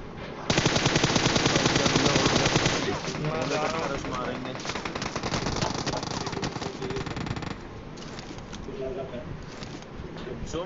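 Rapid automatic AKM rifle fire in PUBG, a loud sustained burst of shots that tails off into scattered rounds while players talk over the game.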